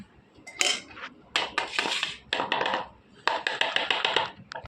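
A spoon scrapes and clinks against a container while serving ghee onto a plate of rice, dal and fried sides, in several short bursts of metallic clatter with brief pauses, close by and moderately loud.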